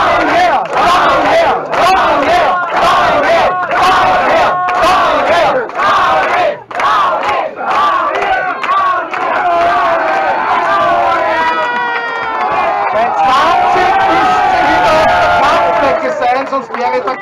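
A wrestling crowd at a WUW match between Thor and Rowdy, cheering and chanting Rowdy's name in loud rhythmic unison, with shouts and a dense roar of voices sustained throughout.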